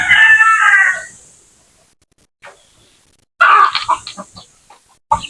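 Native chickens clucking in short bursts near a house, loud and close, with a pause between calls and a quick final cluck at the end, no talking.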